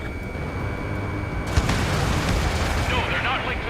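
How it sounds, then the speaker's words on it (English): Missile launch and explosions in the jet combat game Ace Combat 7, a broad roaring rumble with a sharp burst partway through and fizzing, whooshing noise building after, with a voice talking over it. "Missile away."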